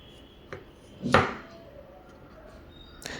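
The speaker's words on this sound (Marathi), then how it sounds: "तर आता कांदा मी देखील बारीक बारीक चिरून घेते आहे हे बघा" A knife chops a medium-sized onion finely on a board for raw mango thalipeeth, a single sharp close thud followed by a couple of lighter taps, with a quiet background.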